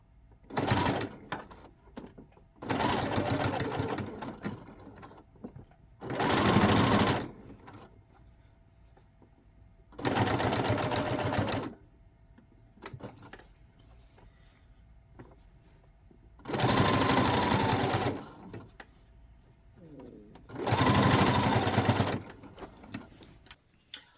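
A sewing machine sews an upcycled denim jacket in six separate loud bursts of rapid stitching, separated by quiet gaps with faint handling clicks, close by.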